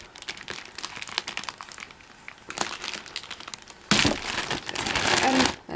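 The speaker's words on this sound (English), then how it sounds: "Now there is sticky tape, but it's easy enough to" Sticky tape is peeled off the cardboard box of a Sphero Lightning McQueen toy in a series of close crinkling, tearing bursts. The longest and loudest pull comes near the end.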